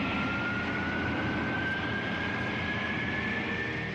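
Concorde supersonic airliner at London Heathrow, its engine noise a steady, dense, loud roar that fills the whole clip with no talk over it.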